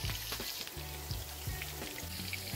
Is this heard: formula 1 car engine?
no